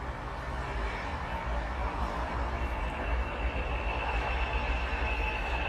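Train passing near a garden, a steady, broad rumble and rolling rail noise that holds at an even level throughout, with no voices.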